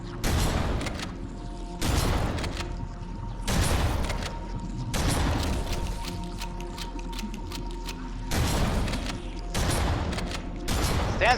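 Shotgun blasts in Halo: Combat Evolved, about six heavy booming shots spaced irregularly a second or two apart, loud and close over a low droning game background with no talking.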